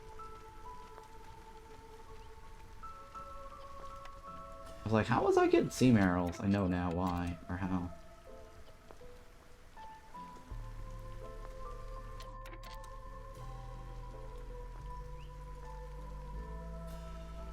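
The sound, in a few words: rain in the video game Against the Storm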